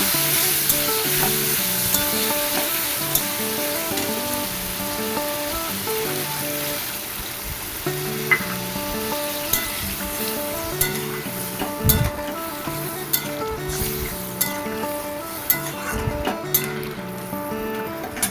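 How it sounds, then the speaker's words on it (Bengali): Water poured into a pan of frying fish curry sets off a steady, loud sizzle, with spoon stirring and occasional clinks against the pan continuing throughout and no talking. "ভাজা ভাজা হয়ে গেছে এখন একটু ওই বাটি ধোয়া জল একটু দিয়ে দিব"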